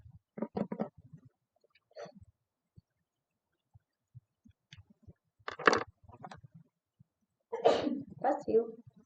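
A single sneeze bursts out during a math lesson in a quiet room, set among scattered soft speech and small noises.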